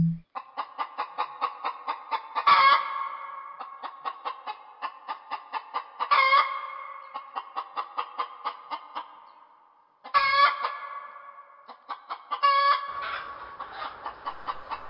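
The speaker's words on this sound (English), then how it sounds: "he's really getting those chickens worked up" A flock of chickens clucks in quick rhythmic bursts, with a rooster crowing loudly four times over the steady, close-up clucking.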